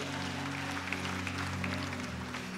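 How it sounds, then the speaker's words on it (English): Church congregation applauding during a sermon, a steady wash of clapping held under sustained organ or keyboard tones that sound throughout. "give him a round of applause for believing the word"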